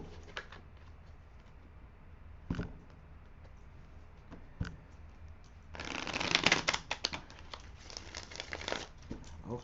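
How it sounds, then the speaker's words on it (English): Tarot cards being riffled and shuffled by hand: a few soft flicks early on, then a dense, loud burst of rapid papery riffling in the second half, with no talking. "I'm going to put one more rifle and one more shuffle on these"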